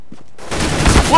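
A short, loud burst of rapid gunfire from a bonus weapon in Counter-Strike: Global Offensive erupts after a brief quiet stretch.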